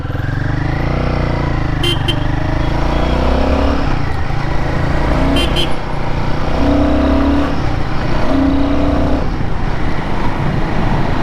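A Royal Enfield Guerrilla 450 motorcycle ridden through city traffic, its engine a loud steady drone with shifting revs, passing vehicles and a few short horn beeps around it.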